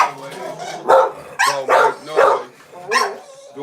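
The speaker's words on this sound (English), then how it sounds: "They gonna bark, they gonna holler" Dogs barking and yipping at feeding time in a kennel, a series of sharp, loud barks in an uneven rhythm from more than one animal close by, with steady background noise between the bursts.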